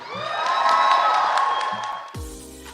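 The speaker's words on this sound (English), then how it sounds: "Let's give a huge round of applause for our awardee tonight" A crowd cheers and whoops over applause, loud and sustained, then the noise cuts off abruptly near the end.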